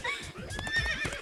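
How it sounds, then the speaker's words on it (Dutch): A horse neighs loudly, a rising and falling whinny mixed with clip-clop hoofbeats, close and alone with no talk over it. "Het trouwe paard bracht de echte bruid."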